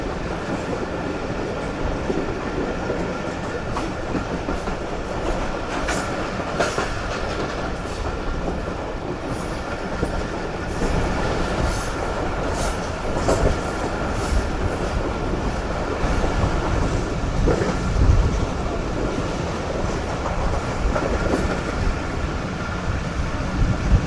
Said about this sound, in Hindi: फाइनली हमारी ट्रेन अप्रोच बना रही है